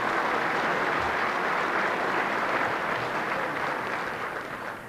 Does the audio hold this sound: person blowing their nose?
no